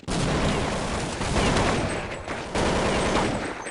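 Dense, continuous gunfire from the Counter-Strike game on the dust2 map, a rapid overlapping barrage of shots that runs loud and nearly unbroken, with brief dips, and no voices over it.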